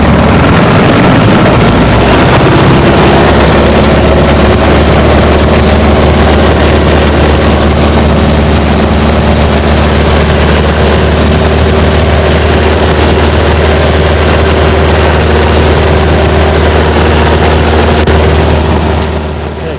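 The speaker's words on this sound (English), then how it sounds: "Now I'm going to apply a little power and taxi down toward the other side of the lake" A floatplane engine powering up to taxi across a lake, a loud, continuous, droning roar that builds in the first seconds and then holds steady, with no talking.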